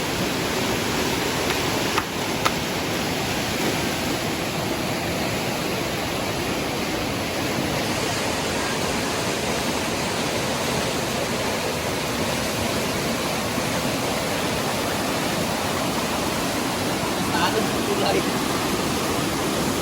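Floodwater rushes in a powerful, continuous roar beside a bridge washed away during heavy flooding, loud and steady like crashing sea waves for the whole stretch, with no break in the torrent.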